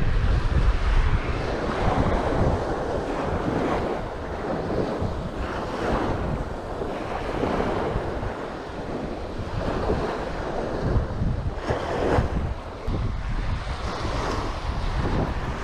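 Strong wind blows across a rocky, weedy, gravelly shoreline while waves wash in, with a steady loud roar and heavy gusts buffeting the microphone throughout.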